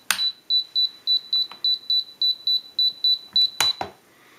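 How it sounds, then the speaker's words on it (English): A Spektrum DX6i radio transmitter's beeper sounds a dozen short, evenly spaced high beeps in a quick rhythm, close and clear, followed by a couple of clicks as a switch is handled. "Turn this off, flip the switch here so the beeper continues."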